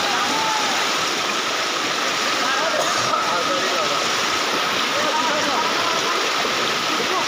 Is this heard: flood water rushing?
yes